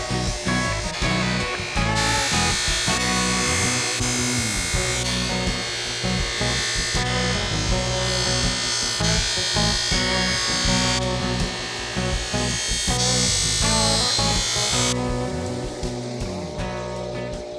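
A buffing wheel polishes an old aluminum valve cover from a 1275 Harley top end, giving a loud, close, continuous whirring grind with shifting pressure and no pauses throughout.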